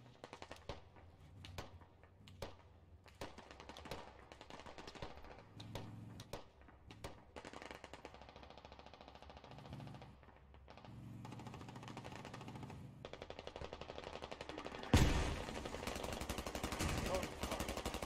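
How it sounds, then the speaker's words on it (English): Mortar fire in the military shooter Squad, a series of sharp blasts and distant impacts spread across the scene, with a loud close burst near the end, under radio chatter and voices. "That's mortar fire."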